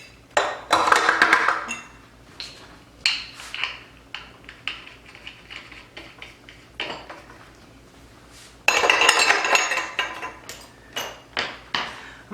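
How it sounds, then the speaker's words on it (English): Metal parts of a meat grinder clink and clatter as it is assembled, a burst of busy rattling near the start and another near the end with scattered single knocks between, close and fairly loud. "Next, we'll put together the grinder."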